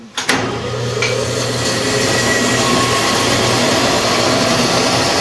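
Power saw fitted with a four-teeth-per-inch rake blade cutting a piece of wood, starting with a sharp knock before the motor rises into a loud, steady whining drone that continues to the end.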